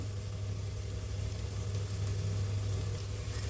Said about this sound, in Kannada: ಒಂದಿಷ್ಟು ಈರುಳ್ಳಿ ಫಸ್ಟ್ ಹಾಕ್ಕೊಂಡು ಚೆನ್ನಾಗಿ ಫ್ರೈ ಮಾಡಿಕೊಳ್ಬೇಕು